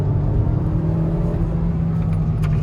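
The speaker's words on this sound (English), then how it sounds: "Bit of engine sound, but nothing tremendously loud" A 2021 Hyundai i30 N Line with a DCT gearbox, driven in sport mode, gives a steady, moderate engine drone and whir heard from inside the cabin without any sharp revving.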